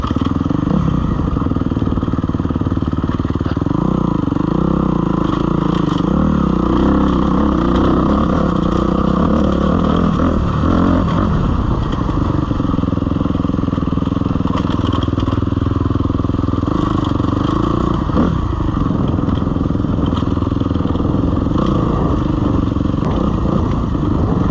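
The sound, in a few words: dirt bike riding down a rocky technical trail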